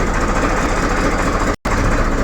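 Close, continuous rumble of an idling tractor engine with a steady low throb, briefly cut off for a moment before resuming.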